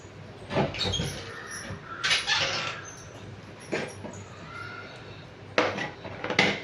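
A metal kadai set down on a stove clanks, followed by scraping and knocking of cookware as oil is added, several separate clattering bursts at close range in a home kitchen.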